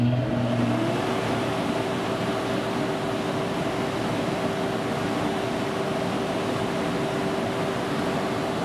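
An XPOWER X-12 ventilator fan runs at maximum airflow, giving a steady, loud, unbroken whooshing whir with a faint motor hum throughout. No voices.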